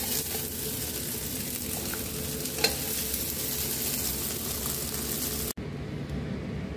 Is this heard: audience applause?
no